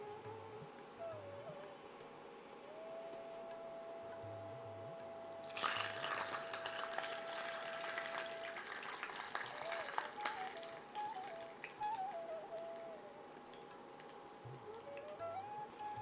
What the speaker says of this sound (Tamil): அற்புதமான இந்த பூண்டு தைலத்தை நாம் நன்றாக வடிகட்டி